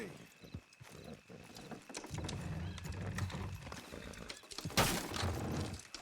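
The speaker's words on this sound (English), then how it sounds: "Good horses." Steady clip-clopping of horse hooves with rumbling movement in the video game Red Dead Redemption 2, rising to a louder burst near the end, with a voice briefly speaking over it.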